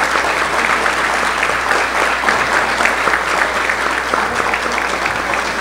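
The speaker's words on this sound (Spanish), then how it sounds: "Estos aplausos son aplausos de reconocimiento y de honra." Audience at the opening ceremony of an international cardiology conference applauding in recognition during a plaque presentation, a loud, sustained burst of clapping that stays steady from start to finish.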